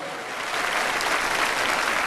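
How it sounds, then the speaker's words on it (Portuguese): A church audience claps at a talk on the spirituality of sobriety pastoral work, a dense wash of applause swelling slightly and holding steady without any voices. "Papa Francisco, palmas para ele"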